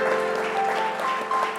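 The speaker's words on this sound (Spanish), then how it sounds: "Denle un aplauso al Señor." A church congregation claps together in brief, fairly loud applause, with a steady sustained tone running underneath.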